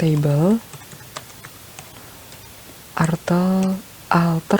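Computer keyboard keys tapped while entering an SQL command, light scattered clicks between stretches of a nearby voice speaking over them.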